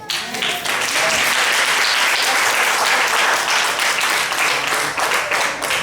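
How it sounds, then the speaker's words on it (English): A church congregation claps hands together, a loud, dense burst of applause that swells in quickly and holds steady throughout, close and with a few voices mixed in. "Somebody clap their hand."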